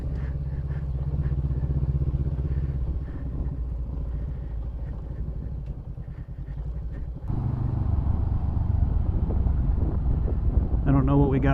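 A trail motorcycle runs steadily on wooded trails, its engine droning loud and close with wind buffeting the microphone, rising in intensity partway through as the rider picks up pace.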